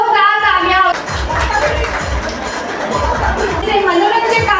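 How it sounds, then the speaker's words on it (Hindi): Audience at a women's organisation honour ceremony for Women's Day and Holi breaks into hearty applause after a voice introduces someone; dense clapping continues steadily, mixed with crowd chatter. "जोरदार तालियां"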